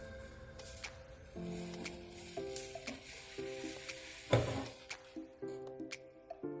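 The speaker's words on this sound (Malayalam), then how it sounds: "അങ്ങനെ നമ്മൾ ചായയൊക്കെ ഒന്ന് തിളച്ച് വരുന്നുണ്ട്." Tea boiling in a pan on a home stove, a quiet bubbling and sizzling with soft irregular pops, heard over faint steady background tones.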